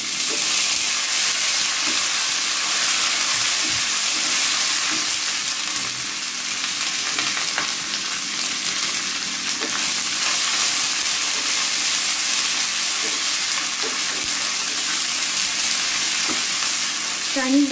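Julienned carrot and capsicum stir-frying in a hot pan for a Chinese-style vegetable dish, giving a loud, steady sizzle throughout with occasional clinks and scrapes of stirring and no talking.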